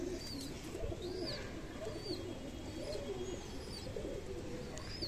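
Pigeons coo softly and steadily after being fed grain, layered over a constant low background hum, with a few faint chirps drifting above the cooing.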